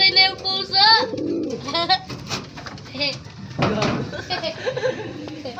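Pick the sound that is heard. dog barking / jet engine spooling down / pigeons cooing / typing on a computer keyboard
pigeons cooing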